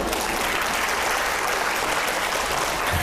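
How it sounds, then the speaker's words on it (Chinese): A lecture audience claps together in a dense, continuous burst of applause, fairly loud and even throughout, with no one talking over it. "来给自己鼓鼓掌。"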